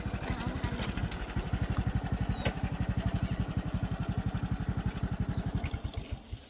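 A tractor engine chugs nearby with a fast, even thumping rhythm and some rattling, running steadily before easing off at the end.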